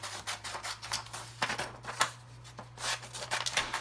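Scissors snipping paper letter slips apart, a quick series of close, crisp cuts and rustles with brief pauses between them.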